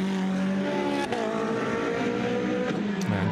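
Mercedes and Ferrari 458 Italia GT race cars at a qualifying race at the Hungary circuit, high-pitched engines screaming steadily with shifting tones and brief gear changes, loud and continuous.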